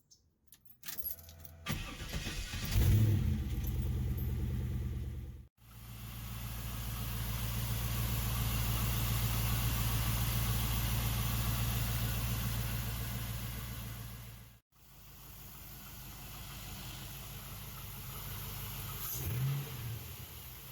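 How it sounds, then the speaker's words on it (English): A car engine cranks and catches, then settles into a steady idle, with brief jangling and clicks at the start and end. "I reinstall it back on the car and then turn it on"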